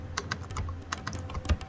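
A command being typed on a computer keyboard: a quick, irregular run of close, crisp keystrokes with no talking.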